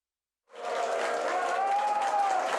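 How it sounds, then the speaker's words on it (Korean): A crowd at a South Korean election victory for Jeonbuk education superintendent suddenly bursts into applause and excited cheering, a dense wash of clapping and voices that holds steady after starting. "여기저기서 환호와 탄성이 이어집니다"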